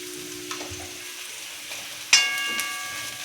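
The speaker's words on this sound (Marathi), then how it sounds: "हे बघा, आता आपला कांदा छान परतून झालाय." Onion sautéing in a pan for homemade hakka noodles, a steady broadband sizzle throughout with a sharp metallic clink and a brighter burst of frying about two-thirds through, no talking.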